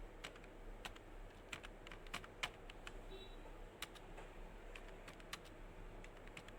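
Typing on a computer keyboard while working in an Excel spreadsheet: quiet, irregular key clicks, some in quick runs and others spaced apart, against a low steady background hum.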